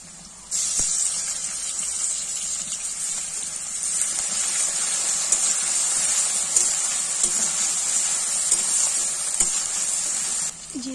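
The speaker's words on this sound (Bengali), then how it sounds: "আলু ভাজা হয়ে গেছে, এবার রসুনটা দিয়ে দেবো।" Garlic dropped into hot oil in a kadai where diced potatoes have just been fried, giving a steady, fairly loud hiss that holds evenly throughout with no voices.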